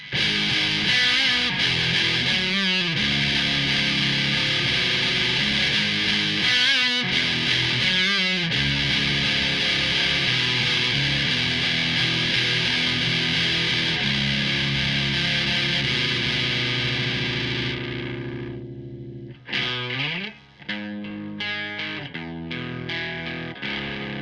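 Heavily distorted electric guitar chords through a DOD Grunge or Boss DS-2 distortion pedal ring out loud and sustained, then give way to choppier, quieter strummed notes near the end.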